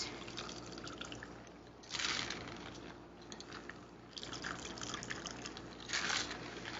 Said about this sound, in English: And then we're going to pour that.